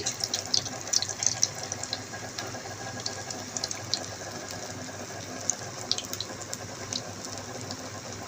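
Bread slices coated in red lentil paste frying in very hot oil, giving a steady, dense sizzle and crackle that runs unbroken throughout at moderate loudness, with no voices.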